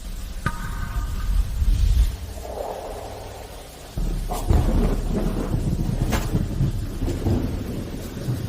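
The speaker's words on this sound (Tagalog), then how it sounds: "Bumubuhos ang ulan diyan." Heavy rain pours down amid a thunderstorm, a dense steady wash of noise with deep rumbling thunder swelling loudly at moments, continuous through the whole stretch with no voices.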